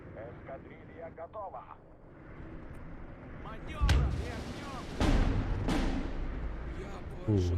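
Artillery shells in the WW2 strategy game Steel Division 2 boom in a few heavy bursts around the middle and end, over continuous battle din with someone talking throughout.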